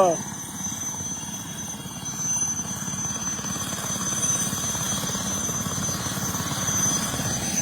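A military helicopter flies over a Punjab village, its rotor thump and engine drone loud and steady for the whole stretch with no voices.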